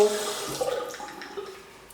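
Tap water runs briefly as a rotating facial cleansing brush is moistened, a short, fairly soft splashing stream heard up close, fading toward the end.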